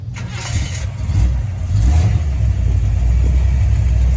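A 1976 Corvette with a rebuilt motor and new exhaust system cranks and fires up, then settles into a loud, deep, lumpy idle heard close by with no talk over it.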